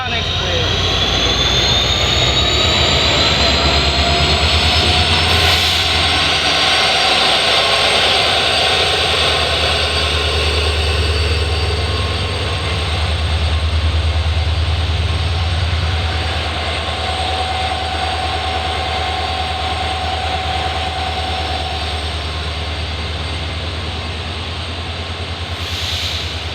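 The Koyna Express standing at a station platform beside another train, giving off a loud, steady engine drone and low rumble that holds unbroken for the whole stretch.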